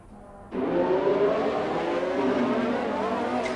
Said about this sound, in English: There's quite a few cars coming out now.